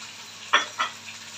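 Two large julienned onions go into a hot pan for an okra tagine: two quick sizzling bursts of frying, the first louder, over a faint steady background hiss.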